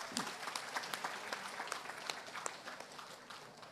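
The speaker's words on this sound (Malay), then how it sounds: "Tepuk tangan." A crowd at a political rally claps in a steady burst of applause, dense and fairly quiet, holding for a few seconds before easing off slightly at the end.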